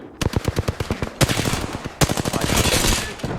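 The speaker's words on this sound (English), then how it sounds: "Making contact with enemy. I am taking fire, friends." Rapid automatic gunfire rattles loudly through a shooter video game, with dense bursts of shots broken by brief pauses and sharp louder reports marking new volleys, no talking.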